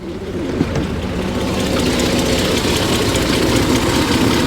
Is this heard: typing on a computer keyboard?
no